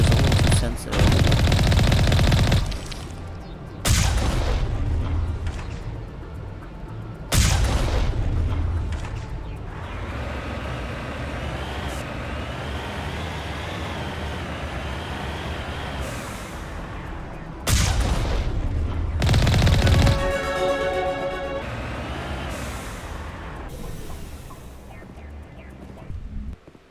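Mass Effect Legendary Edition gunfire comes in loud, sustained automatic bursts separated by quieter stretches of combat ambience, repeating several times across the scene.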